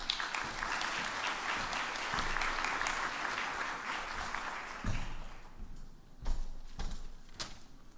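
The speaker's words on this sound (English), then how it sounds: "I'm not sure why you're applauding." An audience at a medical college honors night applauds as an associate dean takes the stage, a steady wash of many hands clapping that thins out toward the end, leaving a few scattered claps.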